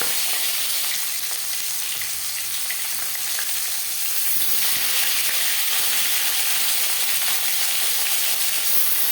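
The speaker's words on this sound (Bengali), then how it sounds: "তাই আগে আমি মাথাটা দিলাম। মাথাটা একটু ভাজা হয়ে আসলে তারপর দেবো মাছ।" A fish head fries in a little oil in a wok, producing a loud, dense, continuous hiss and sizzle close by that holds steady for the whole stretch, with no talking.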